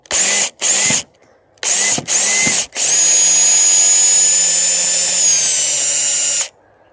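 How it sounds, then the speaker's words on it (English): Power drill whirs in a few short bursts, then runs steadily at slow speed for several seconds extracting a Phillips screw before stopping, close and loud. "I'm going to go ahead at a slow speed, and I'm just going to, a little at a time, extract it."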